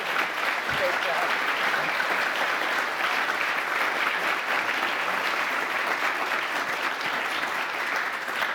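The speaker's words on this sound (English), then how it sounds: "Everyone, please give a round of applause for our amazing" Steady audience applause for a panel at a policy conference fills the room, a dense, even wash of many hands clapping that holds at a constant level from start to finish.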